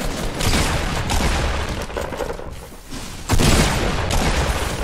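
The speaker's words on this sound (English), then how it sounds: "there's someone shooting outside" Loud sustained gunfire in Fortnite, dense bursts of shots and blasts filling the space with a brief lull before another heavy volley, no talking.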